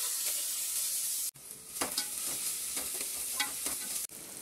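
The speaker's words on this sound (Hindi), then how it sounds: "अब ये जो हमने प्याज और कड़ी पत्ता लिया है इसे डाल देना है और इसे हम हल्का ब्राउन करेंगे" Onions and curry leaves frying in a pan and being lightly browned, a soft, steady sizzle broken by a few sharp stirring scrapes, close up and without talk.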